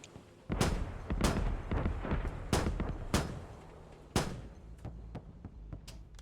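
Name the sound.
gunfire in the video game Squad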